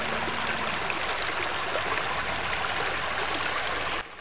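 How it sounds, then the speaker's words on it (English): The Guadalupe River, running higher after heavy spring and summer rain, makes a steady, full rush of flowing water. The sound holds evenly throughout and falls slightly quieter right at the end. "the beautiful Guadalupe River was a little higher thanks to abundant rain this spring and summer"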